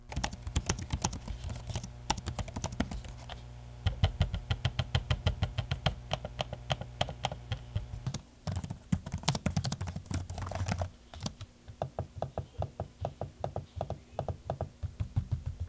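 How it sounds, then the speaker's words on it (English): Rapid clicking keystrokes typed on the keyboards of an HP Omen and a Lenovo Legion 5 Pro gaming laptop, steady close bursts with a brief pause near the end before typing resumes. "Here's a quick sample of each of them so you can hear what the trackpad and keyboard sounds like."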